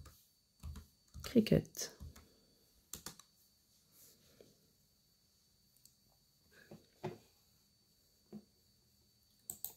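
Keys clatter on a computer keyboard in short, sparse bursts separated by quiet gaps, close and soft, while a person speaks briefly.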